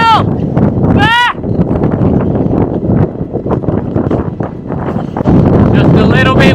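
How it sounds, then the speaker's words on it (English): Strong headwind buffets the microphone on a winter bikepacking ride in France, with low rumbling gusts and a few squeaky, squealing chirps over the blasts. "Just a little bit windy."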